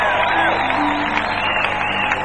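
Audience applause and cheering from a crowd at a live event, a dense steady wash of clapping with shouts mixed in, loud and continuous throughout.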